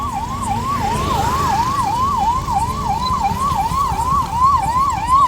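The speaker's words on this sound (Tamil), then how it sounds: "ஆம்புலன்ஸ்" An ambulance siren wails loudly and steadily at a village temple festival in Thoothukudi, Tamil Nadu, with a fast rising-and-falling sweep that repeats over a rumble of crowd and traffic noise.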